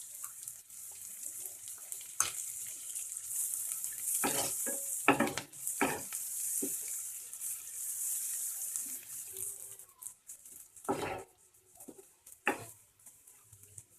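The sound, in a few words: capsicum frying in a pan for pav bhaji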